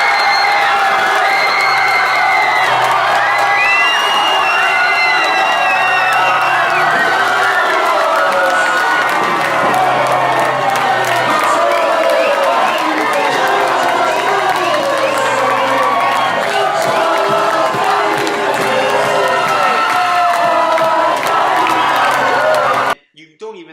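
Wrestling audience at a live show cheering and screaming, a dense loud roar of a crowd with many shrill children's shouts and whoops layered over it, continuing almost unbroken before cutting off abruptly at the end.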